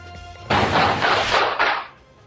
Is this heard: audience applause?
no